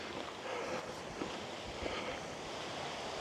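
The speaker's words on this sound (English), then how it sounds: "Yeah, nice little waterfall." Small waterfall at the outflow of Loch Ordie, a steady broadband rush of falling water heard close and continuous, mixed with some wind noise on the microphone and no talking.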